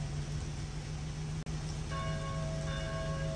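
A church bell tolls in the game Mafia, steady ringing tones over a constant low ambient hum, with no talk.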